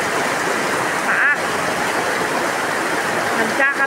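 Heavy rain pours down steadily amid floodwater, a dense, loud hiss that fills the whole span without a break, with a faint higher tone briefly audible within the downpour.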